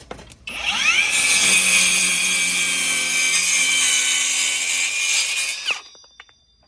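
A cordless 20-volt mini circular saw rips through a 2x4, a loud high whine that spins up, holds steady for about five seconds, then winds down after the cut.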